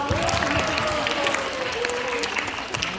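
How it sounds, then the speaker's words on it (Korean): Students and staff at a Korean school class presentation event applaud their teachers, a dense, steady wash of clapping filling the room, with a voice speaking faintly beneath it. "감사의 마음을 들면서 박수를 부탁드립니다."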